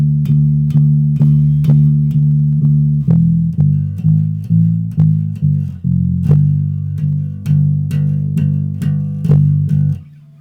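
Electric bass plays a bass part slowly, a steady run of plucked low notes with a sharp attack on each, alone and close with no talking.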